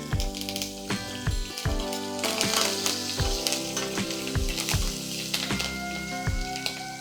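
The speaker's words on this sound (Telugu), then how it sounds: "పచ్చిమిర్చి కరివేపాకు వేగాక" Green chillies, turmeric and curry leaves frying in oil sizzle steadily and loudly, with frequent sharp pops and spatters over the continuous hiss, while background music plays underneath.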